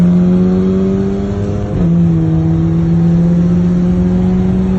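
A car fitted with a BorgWarner K04 turbo revs with RPM rising and falling, a loud close engine drone that dips briefly in pitch midway and then climbs back to a steady whir.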